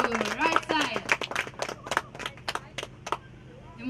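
A crowd at an outdoor charity concert applauds in scattered, uneven claps, with a host talking over the start before the clapping thins out.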